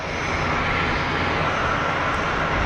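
A Swiss A320 airliner holds at the runway threshold at Geneva before takeoff, its engines giving a steady, broad roaring hum heard from a distance, constant and unbroken throughout.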